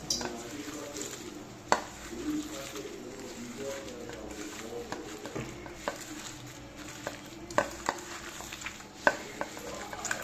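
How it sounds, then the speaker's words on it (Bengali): Wet, soft squelching of white water lily petals being hand-kneaded into a fritter batter, a steady close-up mixing texture with occasional sharper clicks and taps. "মাখানোটা বেশ ভালো করে মাখতে হবে।"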